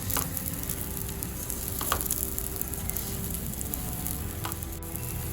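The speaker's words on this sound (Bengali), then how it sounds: "মিডিয়াম টু হাই ফ্লেমে আমি প্রায় 5 মিনিট দেখুন ভেজে নিয়েছি" Rice for milk pulao fries in a pan over medium-high heat, giving a steady, loud, dense sizzle throughout with a few faint clinks of stirring and no speech.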